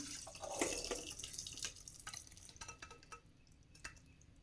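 Water from cooked barley pours and drips through a strainer close by, a splashy trickle at first that thins into scattered drips and faint clinks.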